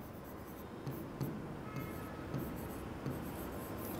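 Pen scratching steadily across a writing surface during a physics lesson on current electricity, with faint continuous strokes and a few slightly louder taps, and no talking.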